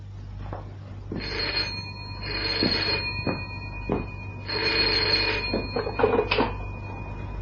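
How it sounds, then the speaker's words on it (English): A telephone bell rings in an old radio drama, sounding in several loud bursts with short pauses between them, with no talking over it. "At about that time, the telephone rang."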